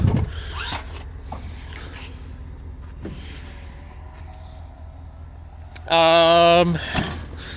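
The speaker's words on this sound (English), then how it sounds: "it does have power third row seats here. Power second row seats" Power second and third row seats in a 2019 GMC Yukon XL Denali moving, a short loud steady motor whine with a rising pitch near the end, following quieter mechanical clicks and shuffling.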